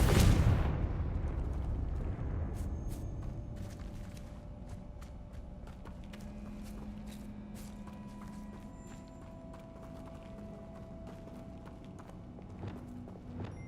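A Bombarda explosion spell in the video game Hogwarts Legacy goes off with a loud blast at the very start, then fades into a long rumbling tail with scattered crackles and debris clatter.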